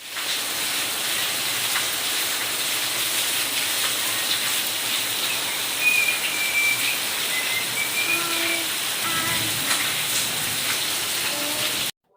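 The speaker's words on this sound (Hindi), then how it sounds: "देखिए कितनी धमाधम बारिश चालू हो गई है।" Heavy rain pours down in a dense, steady roar that never lets up, with faint scattered sounds beneath it and no talking.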